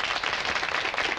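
A TV game show studio audience applauds a contestant in a brief, loud burst of dense, continuous clapping.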